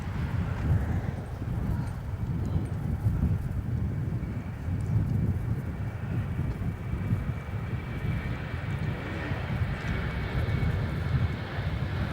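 A China Southern Boeing 737 taking off from runway 16 at Melbourne Airport, heard as a steady, distant low engine rumble with wind buffeting the microphone throughout and no voices.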